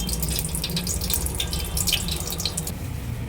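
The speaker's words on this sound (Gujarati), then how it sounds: "પનીરને બધું પાણી નીચોડી અલગ કરી નાખું." Water trickles and splashes steadily as freshly made paneer is squeezed by hand to press out its liquid. The soft, close, continuous sound carries no speech.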